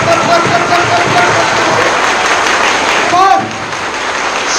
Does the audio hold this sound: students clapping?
yes